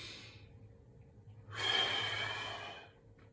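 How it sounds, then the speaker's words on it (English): During a boxing workout, a hanging exercise, a person draws a soft breath in, then lets out a louder, longer, airy exhale that fades away. The breathing is close and clear, with no talking over it. "Nice deep breath."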